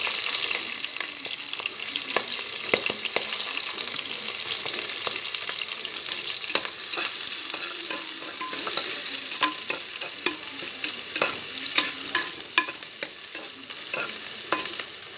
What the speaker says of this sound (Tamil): வெங்காயம் நல்லா வணங்கட்டும்